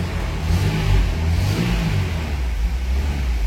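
A Ford Scorpio 2.0 GL that has just been started, its engine running and revving steadily at close range with a deep, continuous rumble throughout and no talking.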